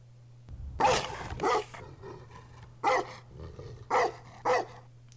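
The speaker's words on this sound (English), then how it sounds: "He's a cute dog." A dog barks repeatedly in a TV drama scene, giving about six sharp, fairly close barks in an uneven rhythm over a steady low hum.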